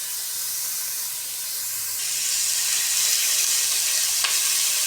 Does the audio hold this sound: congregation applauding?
no